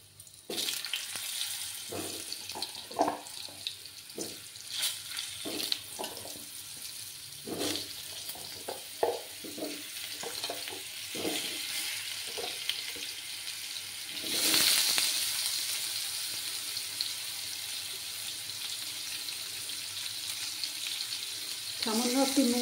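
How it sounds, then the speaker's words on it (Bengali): Potatoes dusted with turmeric frying in hot oil give a steady, close sizzle, with clinks of a spatula stirring them and a brief surge of louder hissing midway. "এবার আমি আলুগুলো ভেজে নেব।"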